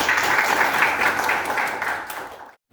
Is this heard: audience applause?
yes